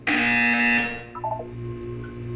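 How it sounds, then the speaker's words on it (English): A loud electronic buzzer blares in the video game Portal 2 for nearly a second and then gives way to quieter tonal electronic chimes and a low hum. "You will hear a buzzer."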